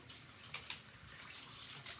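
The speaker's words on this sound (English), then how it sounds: "So I just give them a good rinse first." Makeup brushes are rinsed under a running tap. Water flows in a steady close wash, with a couple of brief splashy surges as the brushes pass through the stream.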